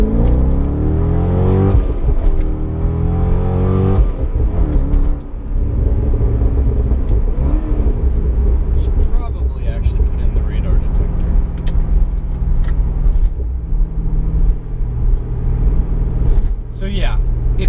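A 400 hp Corvette C6 accelerates hard under full throttle, its engine droning and rising in pitch through long pulls with brief dips at shifts, loud and close from inside the cabin, with someone speaking over it.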